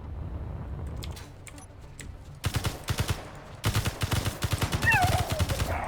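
Rapid automatic gunfire in Space Engineers multiplayer, short bursts of sharp repeated shots that grow louder and denser after a quieter opening.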